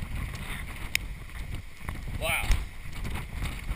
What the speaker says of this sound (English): I'm guessing 60-mile-an-hour winds